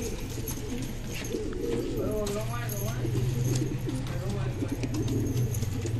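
Old house pigeons at a home loft coo steadily and fairly close, a continuous low burbling with occasional wing or perch noises, while someone talks over them throughout.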